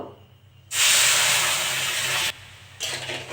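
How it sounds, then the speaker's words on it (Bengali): Water and sugar poured into a hot wok for semolina barfi burst into a loud, close steaming hiss that holds for about a second and a half, cuts off briefly, then returns. "আমি যে বাটি মেপে সুজি নিয়েছি সেই বাটি মেপে আমি চিনি দিয়ে দেবো। বাটির হাফ জল দিয়ে দেবো"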